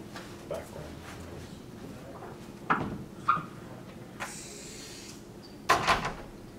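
A door shut in a room during a grad school panel: scattered knocks and clicks, then a sharper thud and rattle near the end, with faint room noise and no speech.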